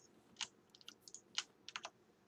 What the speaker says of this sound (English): beautiful shift clicking